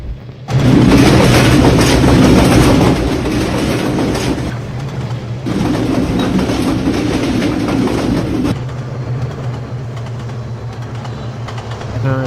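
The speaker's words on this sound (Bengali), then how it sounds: "মনে হচ্ছে ট্রেনটি সাপের মধ্যে আঁকা বাঁকা চলছিল।" The Barendra Express, on its Rajshahi to Chilahati run, rolls along the rails with a loud, steady roar and rumble heard from on board. The noise dips briefly partway through, then swells again, with no voices.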